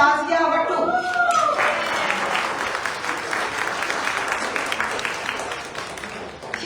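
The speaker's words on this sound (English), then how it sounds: "Please give her the big round of applause, Shazia Vattu." Sustained crowd applause at a women's iftar gathering hosted at Gracie Mansion, steady dense clapping that fills the room after a brief moment of voices, carrying on evenly to the end.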